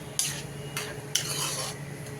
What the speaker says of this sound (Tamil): எல்லாம் நல்லா கலந்து சிம்மில் வைக்கணும்